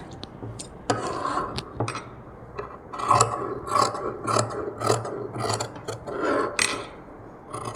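Scissors snipping through cloth for a blouse sleeve, a run of close crisp cuts and rustles in an irregular rhythm, moderately loud with no talking.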